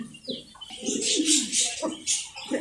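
Banja pigeons at a pigeon farm give soft, low cooing calls in several close, repeated phrases, with brighter chirpy sounds above them.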